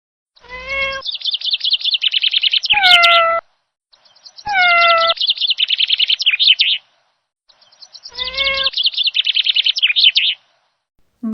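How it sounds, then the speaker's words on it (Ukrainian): A cat meows in three separate bursts, each mixed with quick chirpy trills, loud and close with silent gaps between. "в нас кіт йде."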